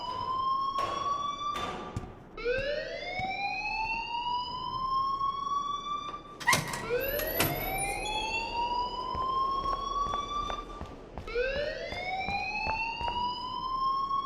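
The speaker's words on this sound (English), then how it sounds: "please turn off that alarm since that's your job" Wailing electronic alarm in the Life Is Strange video game, loud and alone, its rising tone sweeping up again and again in repeated cycles.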